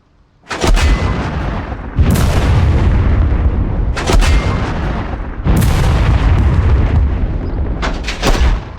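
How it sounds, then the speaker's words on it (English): Self-propelled howitzer firing in a World War II video game battle, a series of heavy booming shots roughly every one and a half to two seconds, each blast rolling into a long, loud rumbling tail with no pause between rounds. "Our self-propelled howitzer will not rest until that German squad has had it."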